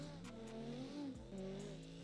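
Engine of a drifting video-game car holding a steady drone with wavering pitch, one brief dip midway, sustained and fairly close with no talk.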